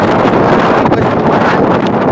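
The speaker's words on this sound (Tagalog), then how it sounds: "Malakas mag-hangin" Strong typhoon wind roars and buffets the microphone continuously, a loud rumbling rush with no letup and no voices.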